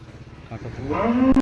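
A Jersey dairy cow kept with her eight-day-old calf on a farm gives a loud, close moo that swells and rises toward the end of the clip.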